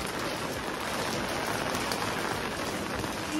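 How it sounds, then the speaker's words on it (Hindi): Heavy rain pouring down in a dense, continuous hiss of drops striking surfaces, steady and loud throughout with no voices. "एंड काफ़ी ज़्यादा तेज़ बारिश हो रही है इस समय"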